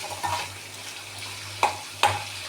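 Dried anchovies fry softly in a pan on low heat, a quiet sizzle with two sharp scraping stirs near the end and an earlier softer one.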